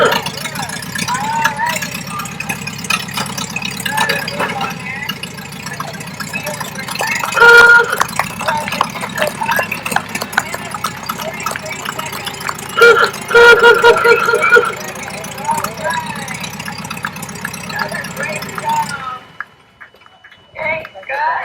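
A Ford Model T engine runs during a timed build, a rattling, uneven idle with ticking mechanical clatter, louder bursts midway, then cutting off near the end.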